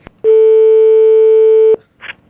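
A single long, loud steady telephone tone sounds for about a second and a half, heard as a radio host places a prank call, with a faint short blip before it and a brief noise after.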